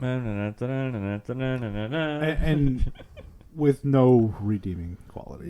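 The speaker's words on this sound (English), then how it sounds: "that's a cat" A cat meows several times with rising and falling pitch, close and fairly loud, mixed in with people talking.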